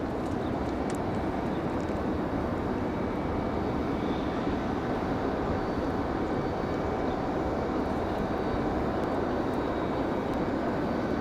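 Moxie flight 855, an airliner arriving at Raleigh-Durham International, gives a steady, fairly loud engine roar and rushing noise that stays constant throughout, with no voices.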